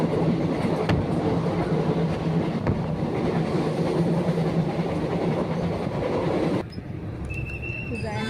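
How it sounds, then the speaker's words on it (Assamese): A moving train rolls along the rails with a steady rumbling clatter inside the carriage, close and continuous, the tone changing abruptly near the end; faint voices mix in. "আৰু আমি ট্ৰেইনত উঠিলোঁ"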